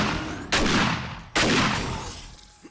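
Two loud shotgun blasts in the video game 7 Days to Die, about a second apart, each a sharp boom trailing off into a long decaying rumble, close and alone.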